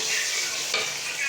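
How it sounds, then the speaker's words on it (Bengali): Goat liver bhuna frying in a pan, a steady bright sizzle filling the short moment with a slight surge near the end and no voices. "এখানে রান্না করছি খাসির কলিজা ভুনা"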